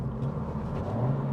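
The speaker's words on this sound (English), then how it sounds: "It's not the most powerful vehicle, but it is fun ripping it through these gears." 2026 Honda Civic Si engine pulling hard through the gears, a brief steady rumbling drone with a sustained engine hum, loud and close, without talk.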